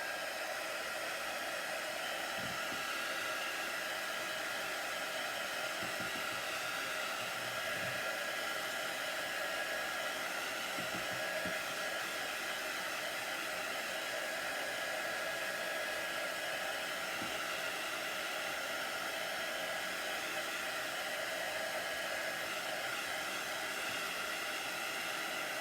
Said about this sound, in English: So you can also use a hair dryer, or you can just wait till it's dry.